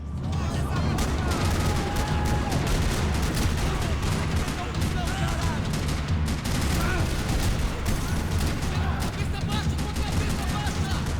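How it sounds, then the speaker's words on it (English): Dense, rapid gunfire in the video game Max Payne 3 rattles continuously, loud bursts and booms piling up with faint voices underneath. "Another parking lot rattling with gunfire."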